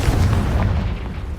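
A single deep, booming blast from the Confringo fire spell in Hogwarts Legacy, loud and close with a rumbling low-end decay over about a second.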